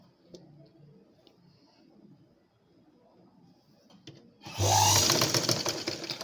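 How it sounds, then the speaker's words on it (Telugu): A sewing machine stitches a blouse from the open side, starting after quiet faint clicks and then running loudly with a dense rapid mechanical whir through the final seconds. "ఇప్పుడు ఓపెన్ సైడ్ నుంచి స్టిచ్ చేసుకోవాలి."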